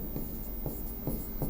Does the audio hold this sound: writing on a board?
yes